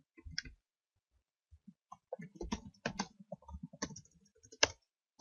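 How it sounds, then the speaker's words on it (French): A computer keyboard is typed on up close in irregular bursts of crisp clicks and taps, with short pauses between, while a game is being played. "je vais taper ça"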